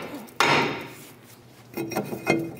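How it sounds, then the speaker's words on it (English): A heavy hammer strikes the back of a wheel rotor on a 2007-2013 Mitsubishi Outlander during a wheel bearing replacement, one loud close blow followed by two lighter ringing taps. "we're gonna switch to a little bit of a heavier hammer and get some hits on the backside"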